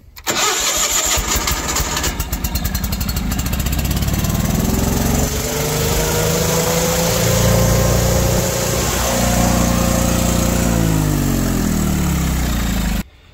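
A Ford F8000 truck that has sat unused for years cranks and then starts, settling into a loud, steady close-range idle that rises and falls slightly in pitch before cutting off abruptly.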